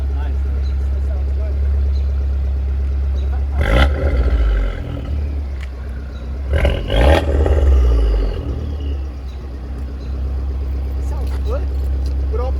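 A sports car engine idles with a deep, steady rumble, then revs up twice to about 3000 RPM in short, loud bursts before settling back. Voices can be heard nearby.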